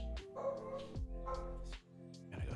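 Barnaby, a pet dog, barks a few times indoors, rough yelping barks with short gaps, somewhat distant and moderately quiet.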